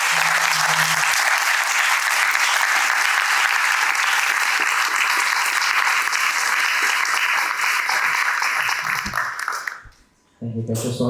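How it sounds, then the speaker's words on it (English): Big round of applause from the audience at the close of a spiritual talk at a lounge venue, dense sustained clapping for about ten seconds, then cutting off abruptly into a brief quiet. "So if you can again join me with a big round of applause"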